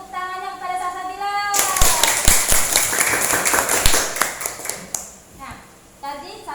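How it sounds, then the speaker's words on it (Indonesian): Students in a classroom clap for a classmate in a short burst of scattered, uneven claps, preceded and followed by a teacher's voice. "Beri tepuk tangannya kepada Salsabila."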